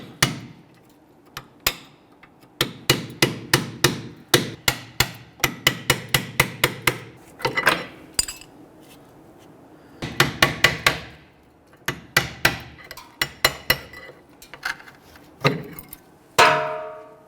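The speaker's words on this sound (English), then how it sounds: "I'm going to use a small pry bar here with a hammer and tap these out" Sharp metallic hammer taps striking a small pry bar to knock out rear brake pads on a 2006-2012 Toyota RAV4, delivered in quick bursts of several blows separated by short pauses, loud and close.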